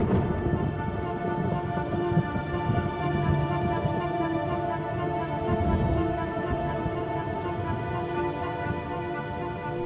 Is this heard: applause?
no